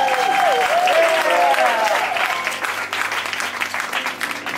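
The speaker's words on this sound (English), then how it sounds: "Keep your applause going." Audience applause greets a New York improv comedian at a song nomination show, a dense sustained clapping crowd at full volume with some whoops and voices over it, thinning slightly toward the end.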